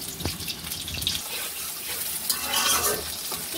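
Onions with green chillies frying in oil in a kadai, a steady soft sizzle with stirring scrapes and light watery clatter, continuous and close, no talking.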